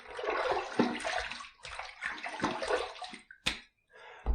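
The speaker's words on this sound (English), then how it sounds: "I'm going to throw a little more water on my face" Water from a bathroom sink is splashed onto a face during a wet shave, coming in repeated close bursts of sloshing and dripping, separated by short pauses, with a sharp clatter near the end.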